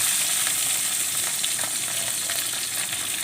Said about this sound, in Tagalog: mahina na yung kulo ng mantika